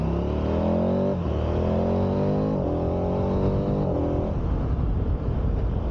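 A truck engine drones loudly up close on a mountain road near the Col de l'Iseran, its pitch climbing through several gear shifts before settling into a steady rumble.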